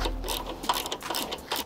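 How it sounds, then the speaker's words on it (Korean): A 12mm ratchet wrench loosening the rack bolts on a Honda Super Cub gives a rapid, close, continuous clicking of the pawl with no voices. "12mm 이런 깔깔이 사용하면 되는데"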